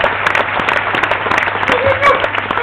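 A theatre audience at a magic show claps in loud, dense applause, a continuous rattle of many hands throughout with a few voices rising within it.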